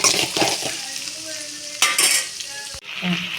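Sautéing in a pan for paneer matar masala: close frying sizzle with stirring, several scrapes and clinks of a utensil against the pan, and a brief pause before the sizzle resumes.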